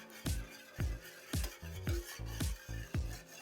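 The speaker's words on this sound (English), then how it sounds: "you're going to want to whisk the bottom or keep rubbing the bottom just because it's going to start sticking" A whisk scrapes and taps rhythmically against the bottom of a pan as a thickening sauce is stirred, about seven quick strokes in a steady beat, close and fairly quiet.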